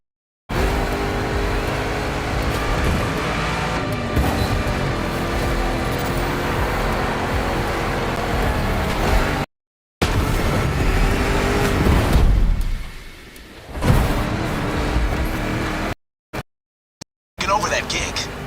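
A lifted Mustang GT races in The Crew 2, its engine droning and revving loudly without a break, with voices talking over it, a couple of brief dropouts to silence, and a lull near the end.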